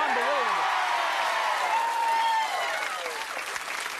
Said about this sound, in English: I think this is the loudest crowd we've had in weeks here.